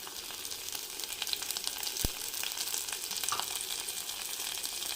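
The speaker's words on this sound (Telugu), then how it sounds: "ఉల్లిపాయలు వేగినాయి కదా ఇప్పుడు ఈ క్లవ్ బీన్స్ ముక్కలు వేసేస్తున్నాను" Clove bean pieces fry with browned onions in oil for a curry, a steady dense sizzle and crackle throughout with a single sharp knock from a utensil partway through.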